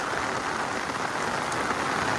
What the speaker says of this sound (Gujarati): ફૂલ વરસાદ ચાલુ છે.